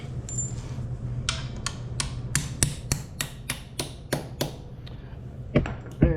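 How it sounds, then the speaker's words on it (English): Sharp hammer taps drive a part into a 2025 Triumph TF 250-X motorcycle during assembly, about a dozen distinct metallic knocks in an uneven rhythm over a low background hum. "Looks like, wow, I'm actually gonna need a hammer for that."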